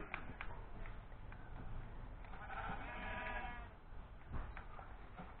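Sheep in a video game bleat repeatedly over a dense, muffled background, one longer wavering bleat standing out in the middle.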